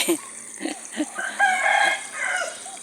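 A rooster crows nearby in a morning flower garden, a drawn-out cock-a-doodle-doo following a few short clucks, loud and clear with no talking.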